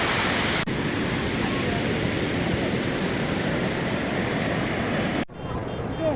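Sea waves wash ashore at Puri beach at sunrise, a steady broadband surf roar filling the scene with wind buffeting the microphone, cutting off briefly near the end.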